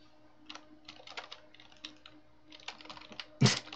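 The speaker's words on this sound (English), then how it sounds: "If I can type it right." Quick, irregular keystrokes on a computer keyboard, light and close, with a sharp louder key tap near the end, no one talking.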